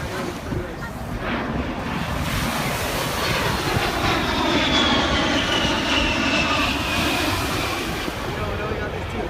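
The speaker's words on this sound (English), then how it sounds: "we got these two helicopters." Two helicopters fly over at the Miami air show, a loud, sustained engine roar that swells and fades slightly, mixed with heavy wind buffeting and surf-like noise from the beach setting.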